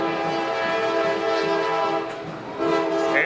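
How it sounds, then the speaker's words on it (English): A train passes near a football field in Fairfield, its horn blaring in a loud, sustained chord over the rumble of the rail cars. "here comes the train"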